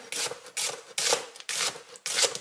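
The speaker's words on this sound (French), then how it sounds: "Je vais commencer par hacher mon oignon." Onion being chopped in a manual hand chopper in a home kitchen, five rhythmic rasping, rubbing strokes at a steady pace, close and fairly loud, with no talking.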